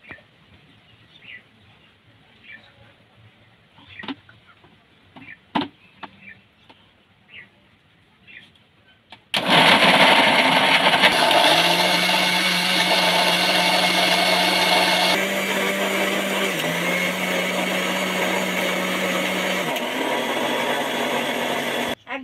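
A kitchen mixer grinds raw mango with cold water and coriander leaves into a paste, starting abruptly after quiet with a few bird chirps, then running loud and steady with a motor whine that dips and shifts pitch, stopping sharply.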